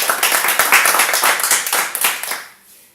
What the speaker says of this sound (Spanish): Dale un aplauso fuerte a Jesús entonces.